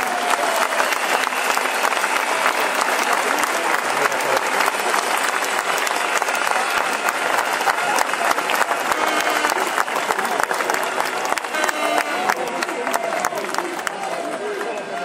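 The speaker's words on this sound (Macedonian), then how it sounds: "Повикувам и на аплауз" Sustained audience applause at a commemoration honouring fallen defenders, dense and steady for the whole stretch with a crowd murmur mixed in.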